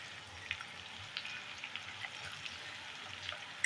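Chillies frying over a high gas flame with ginger and garlic for Indian idli chilli give a steady, close crackling sizzle, with faint scrapes and small pops scattered throughout.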